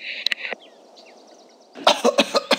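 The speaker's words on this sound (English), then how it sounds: "I need to cough." Several sharp coughs burst close to the microphone, a couple at the start and a rapid cluster of five or so near the end, with a quiet gap between.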